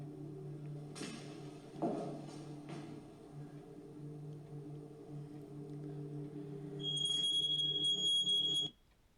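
A shrill, piercing smoke alarm tone sounds for about two seconds near the end, loud over a low electrical hum, then cuts off abruptly.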